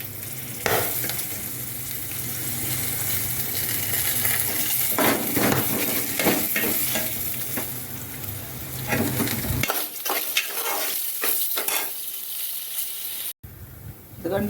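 Tamarind and other ingredients fry in a pan, giving a continuous sizzle with repeated scraping stirs and clinks of the spoon, while a voice speaks briefly over the cooking.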